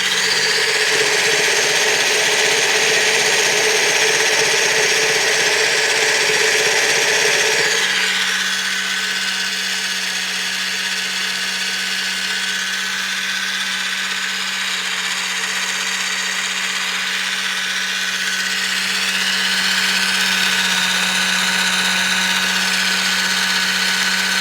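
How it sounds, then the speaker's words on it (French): A Thermomix mixes cake batter at speed 8, a loud, steady motor whine that shifts to a lower, smoother hum partway through and keeps running without a break, no voices. "Donc là, du coup, il va remixer 30 secondes, vitesse 8."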